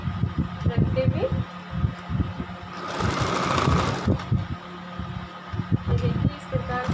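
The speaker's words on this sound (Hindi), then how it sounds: "अब हम जो सिलाई लगाएंगे वो आसन पे लगाएंगे" A sewing machine stitching salwar fabric runs in a rapid whirring burst near the middle, with someone talking before and after it.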